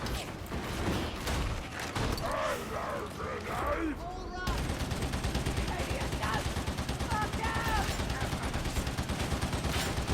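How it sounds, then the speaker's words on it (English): Rapid gunfire in the Warhammer 40,000: Darktide video game, loud dense bursts and mechanical clatter running continuously, with game voices mixed in during the first half before a steadier stream of fire. "Providing covering fire."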